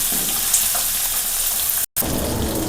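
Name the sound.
shallots sautéing in a pan for egg thoran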